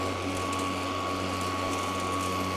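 Honda battery-powered self-propelled lawn mower running its drive, a steady continuous electric motor hum and whine with a constant tone and no pauses, close and even, with no talking.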